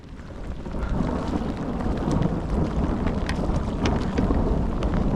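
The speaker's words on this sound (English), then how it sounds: "There's a lightning storm." Thunder and heavy rain in a lightning storm out on the water while kayak fishing, a loud continuous rumble with rain hiss and wind buffeting the microphone.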